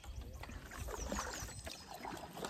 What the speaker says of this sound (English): I'm enjoying Bill paddling the Hornbeck.